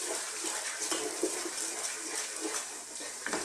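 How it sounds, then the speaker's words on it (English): Dry bulgur is tipped into a pan of frying onions, giving a continuous soft sizzle and hiss with a few small clicks, heard close up with no talking. "So in goes our bulgur."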